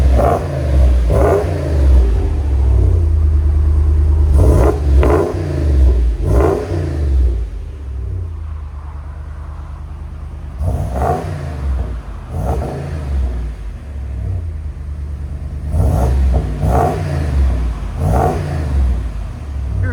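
A RAM 6.4L HEMI V8 truck's loud aftermarket exhaust roars through several sharp revs, deep rumbling bursts separated by idling, close and powerful.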